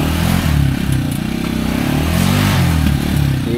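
An overloaded motorcycle climbing a slope strains loudly, its engine churning at a low, labouring pitch with uneven revving and clatter, close by and continuous.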